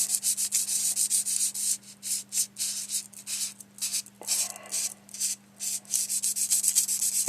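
A part inside an Apple IIe being sanded smooth by hand, with rhythmic rasping strokes that start and stop repeatedly, close and steady, over a faint constant hum.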